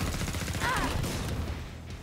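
Rapid gunfire from the boss Hans in the video game Killing Floor 2 crackles in quick bursts amid game noise, moderately loud and continuous.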